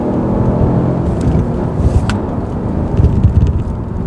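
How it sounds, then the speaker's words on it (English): A Peugeot 308 GT Line car engine roars steadily at close range, rising and shifting as it pulls through the gears with a dense low rumble. "All the way through the gears, this car just sings."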